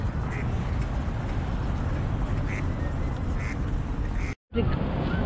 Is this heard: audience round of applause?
no